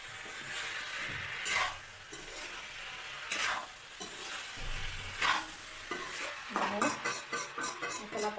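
Vegetables sizzle steadily in a hot pan while a utensil scrapes and stirs them in periodic strokes, with a quicker run of clattering stirs near the end, all close and fairly quiet.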